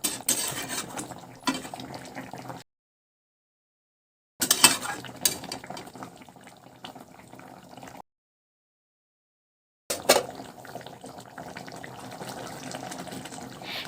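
Koi fish curry with mustard, poppy seed and almond paste gently stirred in a pan, soft scraping and liquid swishing in three short bursts separated by silence.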